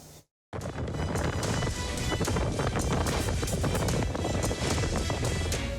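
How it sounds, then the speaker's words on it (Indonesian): Strong wind batters a passenger motorboat, the Cahaya Pesona, at sea off Kepulauan Seribu, Jakarta, in bad weather: a loud, continuous roaring rush with gusty buffeting that starts abruptly after a brief gap and holds steady throughout. "angin kencang menerjang hingga membuat kapal tidak stabil"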